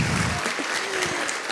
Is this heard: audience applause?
yes